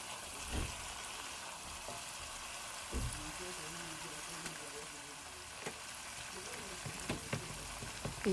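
Fante fante fish stew frying in a pot with blended spices as it is stirred, giving a steady soft sizzle with faint scraping knocks, fairly quiet and continuous.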